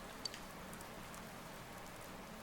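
Light, steady rain patters softly and evenly throughout Persona 4 Golden video game audio, quiet and continuous, with one brief small tap near the start.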